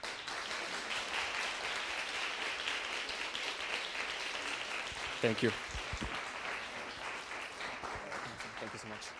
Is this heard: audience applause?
yes